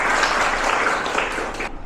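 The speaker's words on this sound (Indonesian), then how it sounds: "Oke, kita beri aplaus untuk Mbak Safira ya" Applause from a classroom audience for a student presenter, a steady dense patter of many hands clapping for about two seconds, fairly loud and close, with no voices over it.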